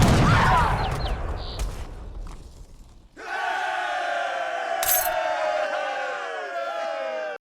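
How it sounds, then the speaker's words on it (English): Soldiers in the Age of Empires 3 strategy game raise a loud crowd roar of cheering and battle cries after winning a battle, following a stretch of noisy combat, sustained for several seconds. "The soldiers even cheer after winning a battle."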